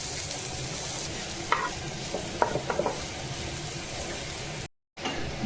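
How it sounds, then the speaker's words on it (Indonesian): Garlic sautéing in a pan, the first step of restaurant-style fried noodles cooked in a small rented room, gives a steady sizzle with a few sharp scrapes and clicks of stirring partway through, with no voices. "Sekarang kita tumis bawang putihnya dulu. Oke, lanjut bawang merah."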